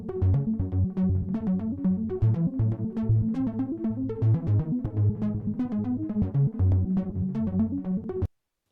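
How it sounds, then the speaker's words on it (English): A Juno synthesizer track plays a busy arpeggiated pattern of quick repeating notes over bass, steady and continuous for about eight seconds before stopping abruptly, with no voice. "This is a Juno track with an arpeggiator and it sounds like this."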